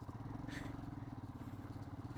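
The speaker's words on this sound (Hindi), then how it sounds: "एक और मिनी वाटर क्रॉसिंग" A motorcycle rides slowly through a shallow mountain stream crossing on the Chandratal to Manali route in Spiti, its engine thumping steadily under splashing and clattering water.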